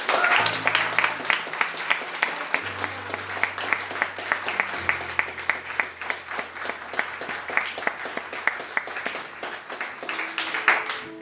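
A church congregation claps and cheers together for about eleven seconds, dense rhythmic applause with sharp hand-clap transients, while sustained low keyboard or organ chords play underneath.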